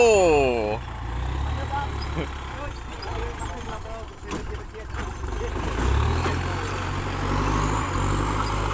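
A tractor works at clearing a pile of soil and pushing it into water, its heavy diesel engine rumbling low and continuous with rising and falling revs. A whining tone sweeps down at the start and brief knocks break in along the way.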